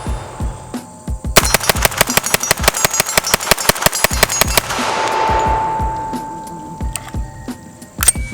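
CMMG Banshee MK10 in 10mm fired in a rapid string of about twenty sharp, loud shots at a steady quick rhythm, followed by a fading ringing echo and a few scattered clicks.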